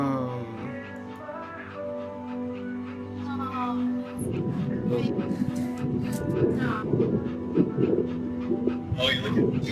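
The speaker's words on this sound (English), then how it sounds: "¡Ay, perrito!" A puppy pants and whimpers in the video game That Dragon, Cancer, soft breathy yips running under a steady game music bed while someone talks over it in Spanish.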